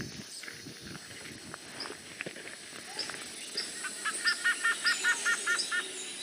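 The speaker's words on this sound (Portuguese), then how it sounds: "Sem querer, acabamos acordando os passarinhos com a luz das nossas lanternas." Birds in the Atlantic Forest wake before dawn, with scattered calls at first and then a rising series of rhythmic, repeated chirping notes, moderately close over a low background of night ambience.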